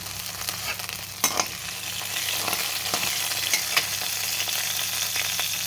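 Curry leaves and crushed chilies fry in oil for a cluster bean and coconut stir-fry, a loud close crackling sizzle with a few sharp spits early on and intermittent spatula scrapes as the pan is stirred.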